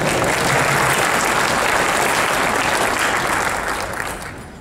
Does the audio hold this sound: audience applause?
yes